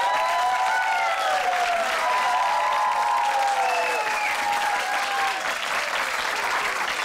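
An audience applauds to welcome a performer onto a stage at a show, steady loud clapping from a crowd for several seconds, with faint whistles and cheers mixed in.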